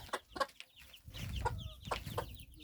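Prostyakovski hens in a village coop cluck in scattered short calls, fairly faint and near, over a soft rustling background.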